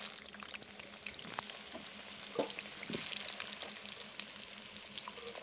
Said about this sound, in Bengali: তেলটা দিয়ে তেলটা ভালো করে গরম করে আলুগুলো ভেজে নিচ্ছি।